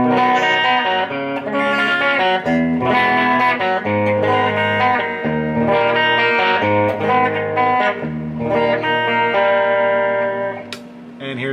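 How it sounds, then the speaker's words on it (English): A Cort VX-4V Rhoads V shred electric guitar plays a clean tone on its bridge pickup: ringing chords and picked notes with bright sustained harmonics, close and loud, steady throughout with no talking. "Here are some clean tones in the bridge."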